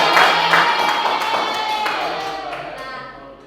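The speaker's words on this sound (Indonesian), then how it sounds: "tepuk tangan untuk kita semua" A group in a school classroom applauds, a dense burst of clapping that starts strong and gradually thins out over a few seconds.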